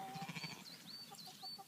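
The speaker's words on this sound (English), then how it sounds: "And more sheep." Sheep bleat faintly across a field near a house in Portmahomack, with a few wavering, distant calls in under two seconds against soft outdoor background sound.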